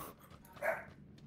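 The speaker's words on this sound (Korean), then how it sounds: "여기 피방에 멍멍이가 살아요" A dog barks inside a PC cafe during a PUBG game session, a single short, moderately loud yap rising briefly over quiet room sound.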